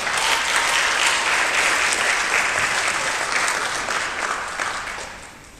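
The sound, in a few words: audience applause at graduation recognition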